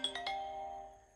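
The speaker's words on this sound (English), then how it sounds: "My phone rang and I needed to answer that." A phone rings with bright bell-like chiming tones, three quick struck notes that ring on and fade slowly, heard alone and fairly close in a quiet room.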